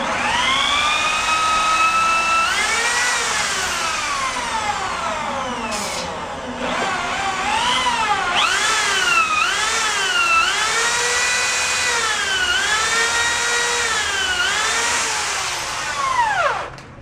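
A variable speed drill with cutting oil bores out a steel frame rivet, its motor whine sweeping up and down in pitch as the trigger is eased and squeezed, loud and close throughout.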